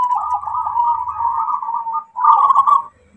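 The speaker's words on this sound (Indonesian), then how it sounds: "Jadi perkutut di bawah pada bunyi kita cek satu persatu, dulur." A zebra dove (perkutut) coos close by, a clear mellow warbling call held for about two seconds, then a brief gap and a second shorter, stronger phrase, with no talk.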